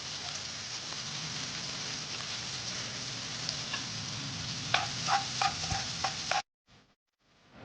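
Chopped onion fries in a pan that has just held okra, giving a continuous crackling sizzle. A run of scraping, clattering stirs comes toward the end before the sound cuts off abruptly to silence.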